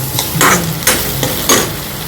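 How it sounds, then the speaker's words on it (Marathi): Onion, garlic and ginger masala fries in a pan with a loud, close sizzle, broken by three quick scraping strokes of a spatula against the metal. "आणि आता ह्याला छान असं तळून घेते या मसाल्याला"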